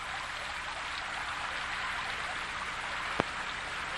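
Stream water flowing down from the Northern California Sierra wilderness, a steady, even wash of trickling water with one brief sharp tap near the end.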